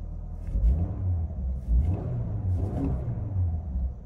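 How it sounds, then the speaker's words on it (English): The four-cylinder engine of a 2021 Subaru Crosstrek with just over 30,000 miles, revved a couple of times, with a low rumbling idle that swells in two or three rises, heard up close. "We'll give it a couple of revs."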